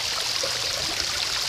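A waterfall rushes in a steady, full hiss of flowing water, close and constant, with no voices.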